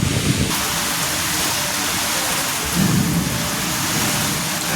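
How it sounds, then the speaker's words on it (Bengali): Heavy rain pours down steadily while thunder rumbles low, with a deeper roll near the start and another about halfway through. "প্রচুর ঝড় বৃষ্টি। আর বজ্রপাত হতেই আছে।"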